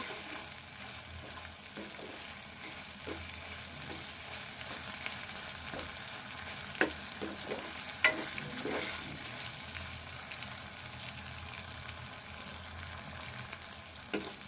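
Spring onion greens and green chillies fry in a pan for a Telangana-style egg fry, a steady close sizzle running throughout with a few sharp spatula clicks and scrapes against the pan.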